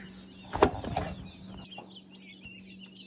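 Small quail in a raised cage level give a few soft, short clucks and chirps, with a louder burst near the start and another near the end, over a faint steady hum.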